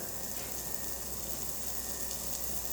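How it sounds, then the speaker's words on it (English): Bone-in New York steak sizzling on a hot grill plate, a steady broad hiss that runs unbroken throughout at close range, with no voices over it. "So you throw your steak on there."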